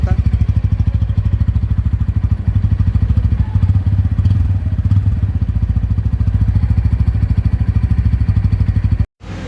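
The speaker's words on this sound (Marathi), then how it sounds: "तर तुम्ही एक्झॉस्ट थंप ऐकू शकता." A Bajaj Pulsar N160 motorcycle idles close by with a loud, steady exhaust thump, a rapid even low pulse that holds throughout before cutting out abruptly near the end.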